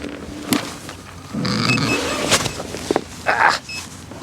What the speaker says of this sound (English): This time I just overpowered the wheel too much and got some wheel spin.